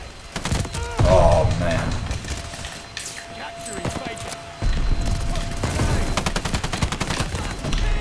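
Rapid, punchy rifle shots from the KG M40 in a Battlefield video game ring out in quick succession against busy battlefield noise. A player's voice is heard talking over the gunfire.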